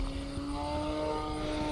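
E-Flite UMX Slow Ultra Stick RC airplane flying on a 3S battery produces a steady, high electric-motor whine with a propeller buzz, holding a constant pitch throughout and sounding fairly close.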